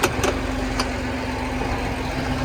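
An American-made farm tractor drives forward and back, its engine giving a steady low idling rumble with a constant hum throughout, a couple of brief knocks near the start.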